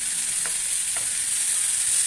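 Onions and chopped tomatoes sizzle in a pan while being stirred, a close steady frying hiss with a couple of soft scraping stirs, no voices.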